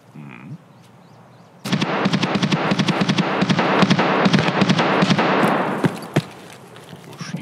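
Loud burst of rapid gunfire in Escape From Tarkov, a dense run of sharp shots crackling for several seconds after a quiet start, then breaking off into scattered single cracks.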